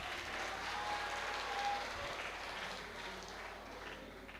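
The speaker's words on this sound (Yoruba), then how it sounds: "ẹ pàtẹ́wọ́ fúnra yín" A seated audience at a Rotary youth leadership academy event applauds steadily for several seconds, an even, dense patter of clapping heard from a moderate distance that holds at one level throughout.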